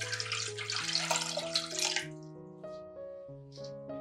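About 1.5 litres of water are poured into a pot holding salt, sugar and 9% vinegar, making a bright rushing splash for two seconds that then trails off into a few small splashes over soft background music.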